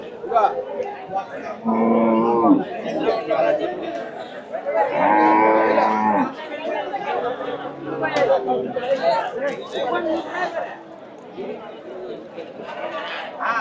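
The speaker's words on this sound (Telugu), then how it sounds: "ఆవులు గేదెలు గట్టిగానే వచ్చాయి." Several long moos from cows and buffaloes, two loud calls close by and others fainter, over steady background chatter from people.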